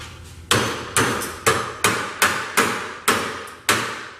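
Nine sharp metallic hammer blows on welded aluminum ring out one after another at a steady, fairly quick pace, each strike loud and close with a brief ringing decay.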